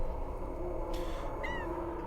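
A single drawn-out cat meow, faint and off-microphone, rises over a low steady hum, with a brief soft rustle just before it.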